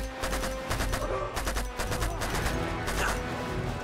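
Rapid gunfire rings out in the video game Uncharted 2: Among Thieves, with dense bursts of shots and impacts crackling close and loud throughout. No one speaks.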